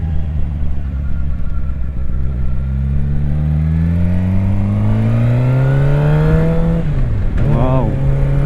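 A motorcycle fitted with an SC Project exhaust revs hard, its pitch sweeping steadily upward for several seconds before dropping and blipping again, loud and close.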